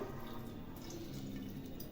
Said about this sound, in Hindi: थोड़ी हमें पानी डाल देनी है, ज़्यादा नहीं डालना है कि वो पूरा पिघल जाए एकदम, इस तरह से कम पानी डालना है।